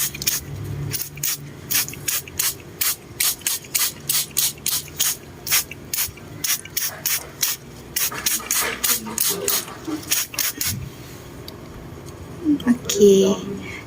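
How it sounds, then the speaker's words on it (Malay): Short rhythmic bursts from a hand pump sprayer as insect-repellent pesticide is sprayed beneath vegetable plants, about twenty quick hissing puffs in steady succession, then a pause with rustling and faint talk. "cara kita nak gunakan racun penghalau serangga ni, kita sembur pada bawah-bawah pokok yang ada serangga"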